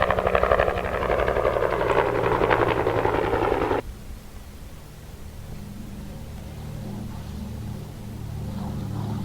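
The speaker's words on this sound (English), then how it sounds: "they're aided by mosquito control district helicopters" Mosquito control district helicopter flying, a steady low rotor drone with broadband rush that is loud at first, then drops abruptly and continues as a fainter, more distant hum.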